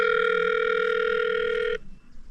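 A steady electronic telephone tone sounds continuously and loudly, then cuts off abruptly, leaving faint room noise.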